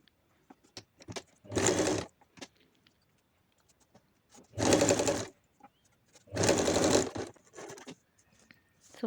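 Sewing machine stitching a hook strip for the back opening of a blouse, three short bursts of fast, even motor-driven stitching, close and loud, with quiet gaps of handling noise between them.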